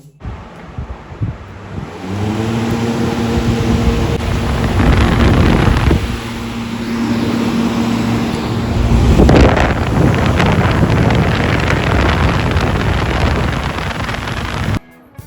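Air cooler switched on: a click, then a steady motor hum with a low tonal drone and broadband fan air rush, louder and gustier in the middle, ending with another click.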